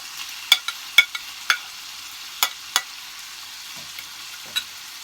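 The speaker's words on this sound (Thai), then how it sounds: "ทีนี้ก็ใส่พริกลงไปเลย" Chili frying in a pan over moderate heat, a faint steady hiss broken by several sharp pops and crackles spaced irregularly, no voices.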